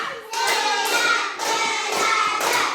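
Schoolchildren in a classroom clap a counted rhythmic pattern on a teacher's cue, several sharp bursts of many hands in quick succession, close and loud, with brief pauses between groups.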